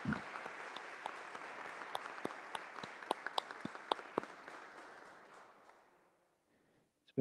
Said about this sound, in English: I think that you, Dave, and Janelle, your family that are watching from home also deserve a round of applause